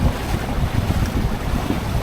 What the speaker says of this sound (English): Here comes the gust.